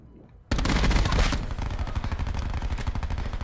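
Sustained automatic gunfire in Black Ops 4 during a hardpoint match, starting abruptly and continuing as loud, rapid, dense shots to the end of the clip.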